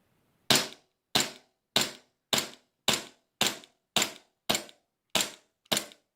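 Ten sharp shots from a small airsoft Glock 42 pistol, crisp snapping reports spaced evenly about every half second, close and loud with silence between.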